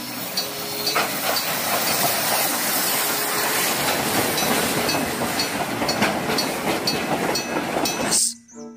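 A freight train rumbles past with a loud, steady roar and rattling clatter, broad hissing noise throughout, then cuts off suddenly near the end.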